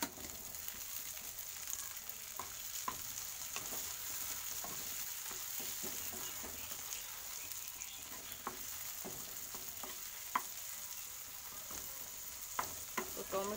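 Chopped tomatoes frying in a pan with onion, ginger and garlic, giving a steady bright sizzle throughout, with occasional clicks and taps of stirring scattered across it.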